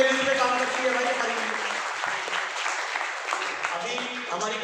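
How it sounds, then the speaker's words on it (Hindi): A crowd at an RCM business motivational event breaks into loud, sustained applause, with voices and some tonal sound mixed in underneath the clapping throughout. "ताली मर्दों वाली बजाइए"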